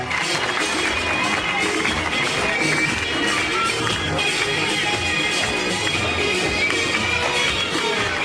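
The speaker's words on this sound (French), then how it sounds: "applaudissez très fort nos deux plongeuses et notre plongeur" Dense, steady applause from a crowd at an amusement-park dive show after divers leap from a 9-metre height, a broad continuous wash of clapping that holds evenly throughout.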